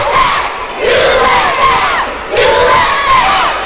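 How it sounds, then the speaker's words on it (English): A wrestling arena crowd roars and cheers in loud swelling waves, two big surges rising and falling with sustained shouting, no single voice standing out. "The crowd, I love it."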